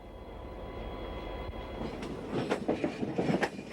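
Union Pacific 3967 Challenger steam locomotive train rolls through a rail yard after leaving Denver Union Station, a low rumble building into rhythmic clattering wheel and car noise that grows louder and nearer.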